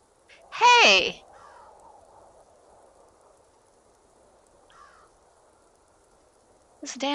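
A crow's harsh caw in the horror video game Root of Evil, one loud close call near the start over a faint rain-like hiss, with a softer sound later and a voice starting at the end.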